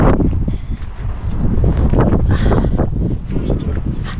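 Strong wind in Finland buffets the microphone in a steady, loud roar with rumbling gusts throughout, no voices heard.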